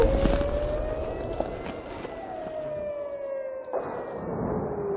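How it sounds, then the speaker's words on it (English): Air raid sirens wail across Israeli communities, long rising and falling tones sounding from a distance over a rumbling background, one siren cutting out as another continues. "the sirens are now being heard in the Israeli communities"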